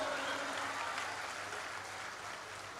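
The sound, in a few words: audience applause at a Hindi poetry recital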